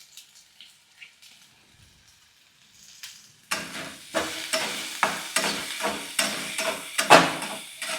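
Chopped onion goes into hot oil for soybean chutney, followed by rhythmic spoon scrapes and stirring over loud frying sizzle after a quiet start of light taps.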